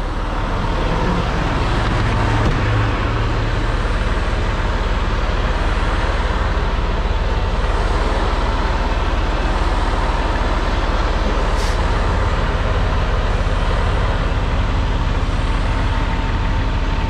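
A truck engine idles steadily while the trailer air brake system charges, a loud continuous low drone with broadband road and traffic noise around it and no voices.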